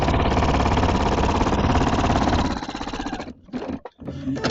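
A sewing machine quilting with a walking foot, a loud close continuous rapid stitching whir that runs steadily, then slows and stops in short bursts with brief pauses.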